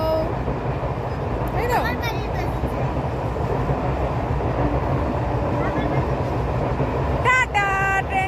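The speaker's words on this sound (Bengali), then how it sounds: "আর এখন ট্রেন আসছে, ট্রেন ওই যে শুনতে পাচ্ছে আওয়াজ।" A train heading to Ranaghat rumbles loudly past a house in a steady close roar, with short horn blasts near the middle and the end and people speaking over it.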